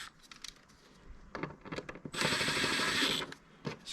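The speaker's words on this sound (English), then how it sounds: "line it up, and screw it down" An M6 bolt being screwed down by hand to fix a folding work table brace, heard as close, quick ratcheting and mechanical clicks with a brief denser burst of whirring turns in the middle.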